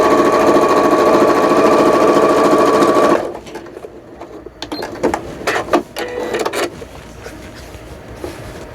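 A sewing machine quilting vertical lines on fabric for a glasses case or pencil case runs in a fast, loud, continuous stitching rattle for about three seconds, then stops, followed by quieter handling clicks and rustles.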